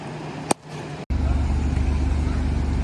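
Car traffic idling and moving at a red light on a Luxembourg street, a Ford Mustang and Alfa Romeo Giulia Quadrifoglio among the cars, a steady low engine rumble that swells after a brief dropout, with a short sharp noise early on.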